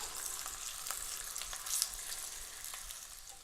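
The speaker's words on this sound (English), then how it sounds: "put a little bit of vegetable oil, and we're going to put our roti. And we're going to cook until it starts to bubble" A roti cooks in a little vegetable oil in a hot pan, a faint, even crackling sizzle with small pops, close and quiet, no voices.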